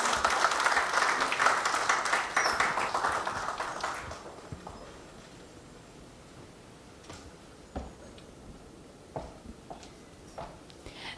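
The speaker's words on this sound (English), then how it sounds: "Can we have a thunderous round of applause for him?" Audience applause at an award function, dense and lively for about four seconds, then thinning into scattered individual claps that trail off.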